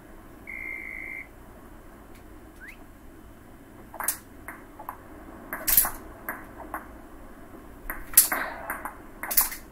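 Table tennis ball hits in Wii Sports Resort, sharp clicky pings scattered in an irregular rally after an opening electronic tone, each crisp and close over a low background hum.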